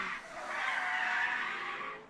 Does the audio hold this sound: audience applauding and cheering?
no